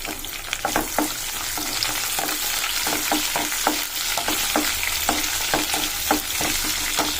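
Green chillies fry in a pan for Rayalaseema uggani (puffed rice upma), a steady close sizzle broken by frequent sharp spatters and stirring clicks, with no talk.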